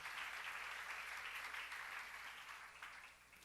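A church congregation breaks into applause during a Korean sermon, a faint but sustained patter of many hands clapping that holds evenly for a few seconds.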